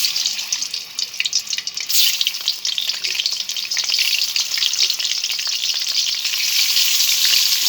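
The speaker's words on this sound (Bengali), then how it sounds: "তেলটা গরম হয়ে গেছে, এবার আমি ইলিশ মাছের মাথাগুলো ভেজে নেব।" Hilsa fish heads fry in hot oil. A loud, close, bright sizzle crackles unevenly at first, then settles into a dense, steady hiss that lasts to the end.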